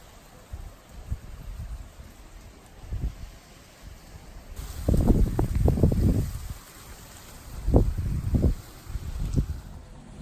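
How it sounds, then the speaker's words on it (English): Outdoor wind beside a road buffets the microphone in low, gusty rumbles that swell and fade, strongest in bursts near the middle and end, with no talking. "I'll just film across the road for you, just so you get an idea how windy it actually is."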